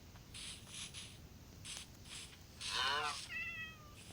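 A cat in a Minecraft survival game lets out one clear, fairly close meow followed by a short, thin chirping mew, after a few soft bursts of game noise over a low background hum.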